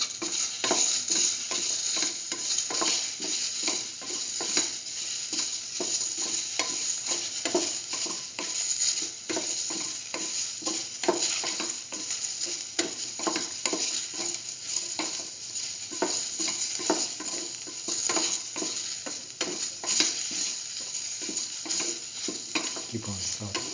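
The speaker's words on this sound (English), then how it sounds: "keep on sauteing." Soy chunks with tomato paste sauté in a pan while being stirred, giving a steady close sizzle broken by frequent scraping and clinking strokes of the spoon, with no talking.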